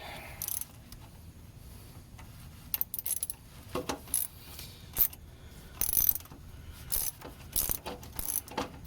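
Socket wrench with a 15/16 socket ratcheting on a rusty bolt, bursts of close, quiet clicking in an irregular rhythm over a steady low background hum.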